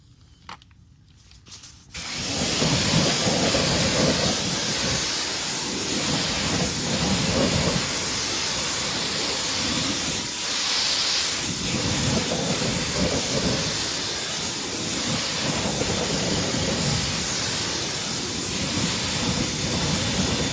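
A pressure washer blasts neglected car wheels and tires, a loud, constant hissing spray that starts abruptly after a brief quiet opening and roars on steadily, shifting slightly as the jet moves across the rims.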